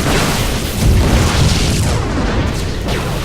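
A StarCraft 2 Protoss battle with Stalkers firing and units exploding, a loud, dense, continuous roar of booms and blasts with no pauses.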